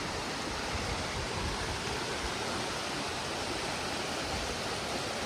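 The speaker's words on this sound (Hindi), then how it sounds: "यहाँ से नदी की आपको आवाज़ भी सुनाई देनी शुरू हो जाएगी" A river flows steadily near Kanti Mashwa waterfall outside Paonta Sahib, a dense continuous rushing wash of water that stays even and loud throughout with no voices.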